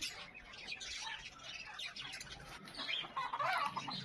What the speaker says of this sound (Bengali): পাতিহাঁস, মোরগ, মুরগি সব একসাথে ঘুরে বেড়াচ্ছে শান বাঁধানো পুকুরের আশেপাশে।